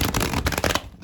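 Tarot cards riffle-shuffled and finished with a bridge, a close, loud burst of rapid flutters and snaps that stops abruptly near the end.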